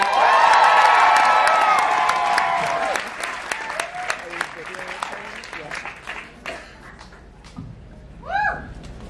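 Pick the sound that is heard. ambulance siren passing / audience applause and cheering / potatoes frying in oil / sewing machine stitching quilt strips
audience applause and cheering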